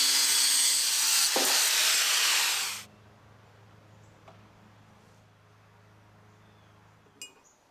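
Loud continuous abrasive cutting through the metal cage of a forklift runs for nearly three seconds, then cuts off abruptly, leaving a low steady hum and a faint metallic clink near the end.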